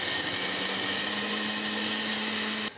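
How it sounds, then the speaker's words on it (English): A blender whirs steadily for almost three seconds while blending watermelon gazpacho made with vinegar and olive oil, then cuts off abruptly. The motor is loud and close, with no talking. "Now we're going to put the lid on and blend."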